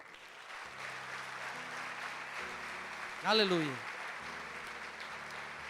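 Church congregation at a Sunday family service claps along under a preacher's amplified voice and sustained organ or keyboard chords, a steady moderate applause bed with one rising shout from the pulpit.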